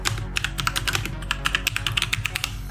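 Fast, steady typing on a computer keyboard, sharp close key clicks in a quick irregular rhythm over a low background hum.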